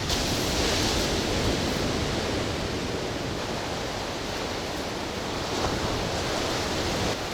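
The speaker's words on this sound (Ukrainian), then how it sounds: "Дивіться, хвиля яка." Heavy Black Sea surf rolling onto the shore near Odesa after a storm, a constant broadband roar of waves mixed with wind buffeting the microphone.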